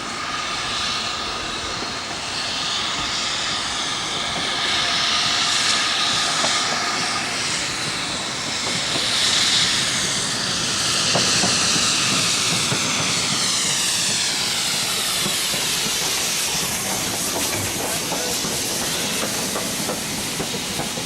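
Great Western steam locomotive 3440 City of Truro runs southbound through a station on the East Lancashire Railway near Bury, producing a loud, continuous, dense rumble and hiss that swells and eases over about twenty seconds without any speech.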